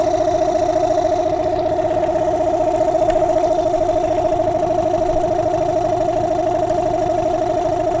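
Small dinghy outboard engine running in gear at idle, a steady close mechanical drone with a strong even hum and a slight rhythmic shake, with no voices.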